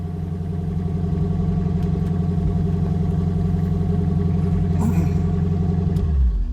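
A 1968 Ford Mustang Shelby GT350 V8 idles steadily up close, a deep, loud, even rumble with a faint lumpy pulse, briefly rising and settling near the end.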